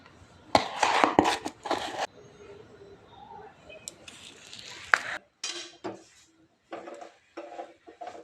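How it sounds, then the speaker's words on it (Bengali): Grated coconut is worked into jaggery in a pan with a utensil, heard as bursts of close metallic scraping and clatter separated by quieter pauses. "নারকেলটা এবার গুড় দিয়ে ভালো করে মেখে নেব।"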